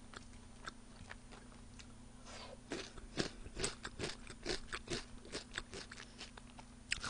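Someone bites and chews crispy carbonara chicken close to the microphone, giving a quiet series of irregular crunches and munching sounds over a low background hum.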